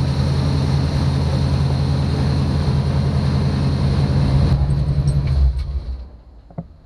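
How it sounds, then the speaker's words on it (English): A car engine idles with a steady low, even hum under the car for about five seconds, then cuts off, leaving near silence with a few faint clicks. "Engine sounds nice and quiet."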